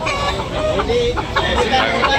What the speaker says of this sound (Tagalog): Maraming manok po mga kabakerd.